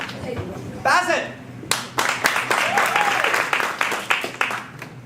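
A theatre audience bursts into applause after a brief voice, the clapping dense and steady for several seconds, with scattered sharper claps standing out.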